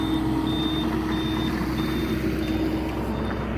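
Regular reversing beeps from a machine backfilling gravel and grading at a house addition foundation, pulsing evenly about once every half second over a loud, steady diesel engine rumble.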